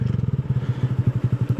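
A Honda Grom motorcycle, 2022 or later, fitted with an MNNTHBX intake, idles close by with a rapid, even, throbbing low putter and no talk over it.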